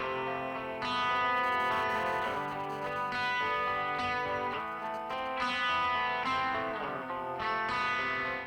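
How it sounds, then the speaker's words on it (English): An electric guitar plays a flowing arpeggio through a Fender Bassman amp with reverb and delay, its repeated plucked notes ringing and overlapping in a smooth, echoing pattern over steady backing, moderately quiet. "Then there's this arpeggio here."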